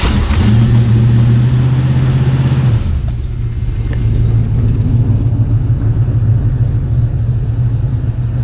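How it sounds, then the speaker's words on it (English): A 1986 Ford Mustang GT V8 cranks and catches, then settles into a loud, steady rumbling idle with a slight early surge, close by and continuous with no talking. "I will fire this car up just for one last time, just to show you guys that it runs and then it starts up"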